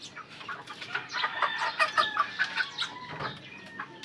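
Chickens cluck in a run of short, nearby calls while pullets and a black hen are being bathed, the clucks rising and falling in quick pulses.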